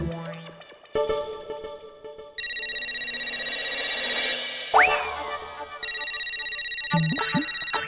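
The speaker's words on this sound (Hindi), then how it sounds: "ये रात गए कौन फोन कर रहा है?" A telephone ringtone rings in repeated electronic bursts, loud and near, with a brief sliding boing tone between rings.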